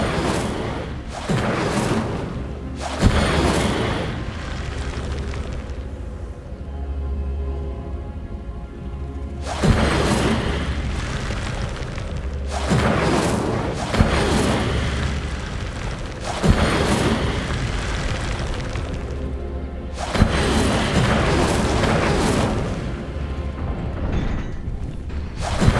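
Incendio fire spells cast again and again, each one a loud booming burst with a whoosh, arriving every few seconds with rumbling sound carrying on between them and no voices.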